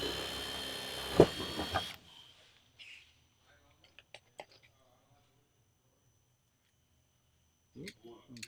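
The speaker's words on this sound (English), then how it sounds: "I'll put a rivet in the middle there as well." A hand rivet tool sets a rivet through Colorbond steel barge capping on a metal roof, giving a brief burst of noise with one sharp snap, then faint scattered clicks and taps before falling quiet.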